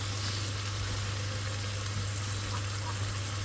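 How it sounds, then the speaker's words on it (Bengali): Steady low sizzle of spices for meat frying in a pan with small potato and meat pieces, a faint continuous hiss alone with no voices. "এখানে মাংসের জন্য মশলা কষাই দিচ্ছি আমি"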